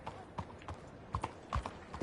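A horse's hooves clip-clop in the video game Red Dead Redemption 2, a few uneven soft thuds at moderate distance, faint under someone speaking.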